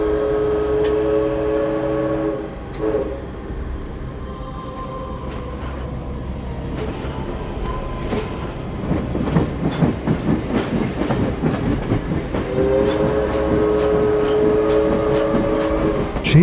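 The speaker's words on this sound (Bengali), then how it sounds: "চাকার ঘর্ষণ যেন পাথরের ওপরে লোহার ঘর্ষণের মতো কর্কশ শব্দ করছে।" A train pulls away from a platform, steady rumble and rhythmic clacking of iron wheels building in the middle, with tonal whines and squeals from the wheels and carriages, loud and close for the full stretch.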